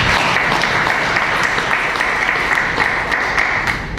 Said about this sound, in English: let's give a round of applause to the panelists,